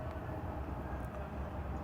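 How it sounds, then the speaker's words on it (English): Trains rumbling past during a midday rush, heard as a steady, low continuous drone from a moderate distance with no distinct clanks or horn, alone without voices. "noon hour rush of trains, I guess."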